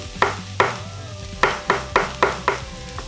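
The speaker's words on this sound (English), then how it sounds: "right now we have to chop the mushrooms, a little bit of them" Knife chopping mushrooms on a board in a home kitchen, six or so crisp, close, evenly spaced cuts over a low background hum.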